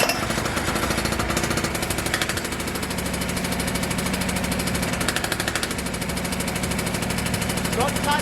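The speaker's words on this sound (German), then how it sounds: "Ich mache einmal den Motor an und dann gucken wir mal mit dem Schalldämpfer und ohne." A Piaggio Ape 50 engine runs at idle, a loud, close, rapid mechanical chatter with an even, fast pulsing rhythm from start to finish.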